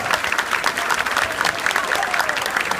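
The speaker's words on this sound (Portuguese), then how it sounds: "eu queria uma salva de palmas para os juízes" Audience applause for the judges at a national Yu-Gi-Oh tournament in Brazil: dense, steady clapping from a large indoor crowd, even and continuous throughout, with no voices over it.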